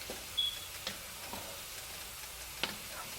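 Rice being stirred in a pot for rice dressing, with a few soft scraping and clinking touches spread across a quiet, steady background hiss.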